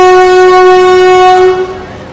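A horn blast rings out as the 12398 Mahabodhi Express pulls into Kanpur Central station, one loud, steady, close horn tone held for about a second and a half before fading out.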